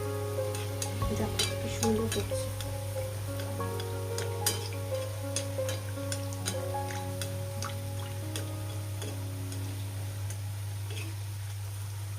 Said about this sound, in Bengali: আর কটা জিলেপি ভেজে নিই